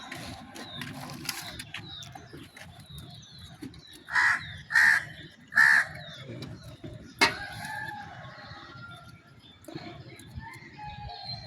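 Three loud, harsh crow caws ring out in quick succession over a quiet outdoor background with faint scattered noises.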